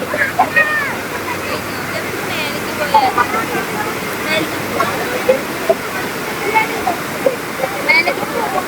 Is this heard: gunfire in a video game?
no